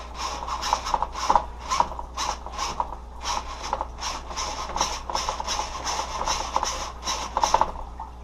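An RC car's steering servo, wired to a Flysky receiver, whirs and ratchets in short repeated bursts as the wheels sweep side to side, close and fairly quiet with no talk.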